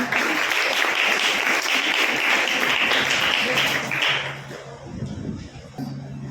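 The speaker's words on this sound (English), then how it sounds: "Please give a big round of applause to her." Audience at a school award function for S.S.C. toppers claps steadily for about four seconds, then the applause fades into a quieter room with some faint talk.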